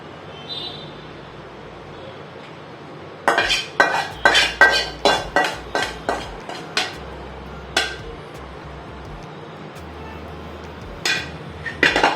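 Cut vegetables tipped into a pot of paneer mushroom biryani with a metal spoon, giving a quick run of about a dozen sharp, close clinks and taps against the pot, then a few scattered knocks later, with no talking.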